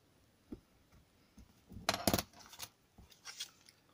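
Scissors snip through paper card during handmade card making: a few faint isolated snips, then a brief cluster of sharp, louder cuts in the middle, fading to quieter rustling, with no talking.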